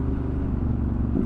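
Steady low car engine rumble right after dropping a gear at a tight hairpin on the A39 coast road between Porlock and Lynmouth, a continuous close drone with no voices.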